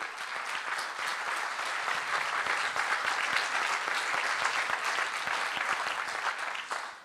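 An audience claps at the closing ceremony of a 2018 event: dense, steady applause from a large crowd, loud and continuous throughout, tapering slightly at the very end, with no speech over it.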